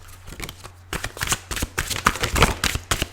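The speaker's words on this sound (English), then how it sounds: "sometimes it takes a bit to get these general cards out" Tarot cards being shuffled by hand, a close series of quick riffling and flicking bursts with short gaps, no talking.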